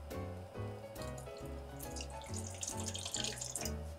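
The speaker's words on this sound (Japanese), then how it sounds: "牛乳をボウルに移していきます。" Heated milk pours from a container into a bowl in a kitchen, a steady liquid stream running continuously throughout, fairly close and alone without talk.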